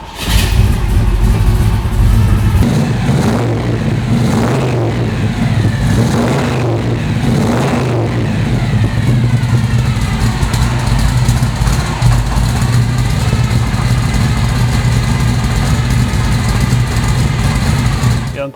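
A 1969 Chevrolet Camaro RS SS396 pro touring car with a built 396 V8 starts up and settles into a loud, deep, lumpy idle, with a few revs swelling early on before the steady rumble continues.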